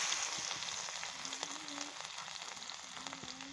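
Black cumin seeds and garlic sizzle in hot oil in a pan, a steady close crackling hiss that runs throughout with small pops and no voices.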